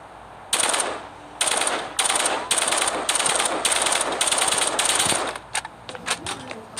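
A Vandal rifle fires in the game Hyper Front in loud, close, rapid automatic bursts, about seven back-to-back strings of shots, then a few shorter taps at the end.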